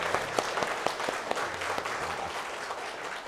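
Applause from an audience thanking two professors at a lecture gathering, a steady patter of many hands clapping at moderate volume throughout.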